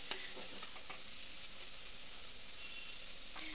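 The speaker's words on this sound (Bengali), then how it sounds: "তো এরকমভাবে আমি এটাকে এবার ভাজতে থাকবো, তার ফলে আলুটাও পুরোপুরি ভাজা হয়ে যাবে" Potatoes and onions fry in a pan for chowmein, a faint, steady sizzle with a few soft clicks of stirring near the start and end.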